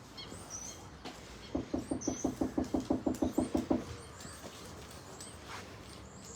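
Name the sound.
knocking on a door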